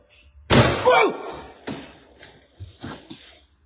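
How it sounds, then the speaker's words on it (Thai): A door slams loudly and nearby at a music classroom, followed by a few softer thuds and knocks that fade over the next few seconds. "เสียงอะไร ประตูใช่ไหม"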